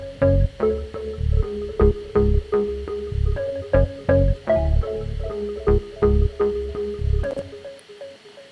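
Layered synth bass made of an M1 organ bass, a sub bass and a Juno 106, pulsing in short punchy notes with a steady rhythmic pattern, loud and alone, ending with a fade to silence.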